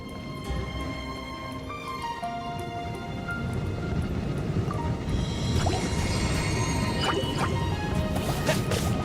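A rain skill effect in Genshin Impact gameplay, a dense crackling patter of many small impacts that grows louder and brighter partway through, layered with chiming tonal effects.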